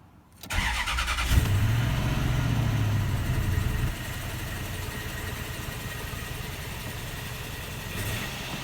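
A 2004 Toyota Tundra pickup engine cranks and catches, then settles into a loud, steady, fast cold idle with a rough rumble and a slight skip. No one speaks.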